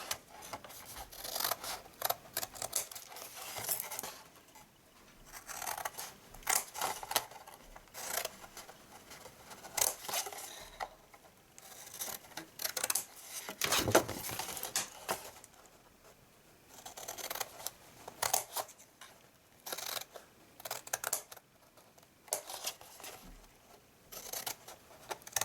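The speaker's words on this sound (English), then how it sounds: "we cut up into the corners and take a little wedge out" Scissors snip into the corners of a paper gift box made from hand-stamped designer paper, taking out small wedges. The crisp, irregular cuts and rustling paper sound close and fairly quiet, with no talking.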